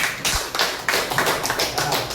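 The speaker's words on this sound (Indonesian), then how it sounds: "Tepuk tangan untuk kelompok 4." Classroom applause for group 4 after their presentation in an Arabic-language class: a dense burst of many hands clapping together, steady and fairly loud, lasting the whole stretch.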